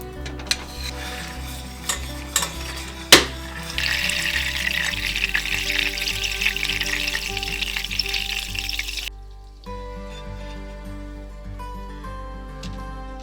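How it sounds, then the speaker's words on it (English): Three tablespoons of butter melting in a pan for challah dough, a few sharp clinks and taps followed by a steady soft sizzle that swells, then drops to a quieter hum. "it's a good time to start melting your 3 tablespoons of butter"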